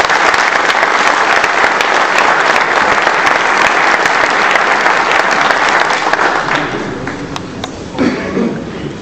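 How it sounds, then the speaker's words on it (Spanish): Warm, dense applause from an audience at a book presentation on Mexico's electricity sector, loud and sustained for several seconds, then thinning out toward the end. "Vamos a recibirla con un caluroso aplauso."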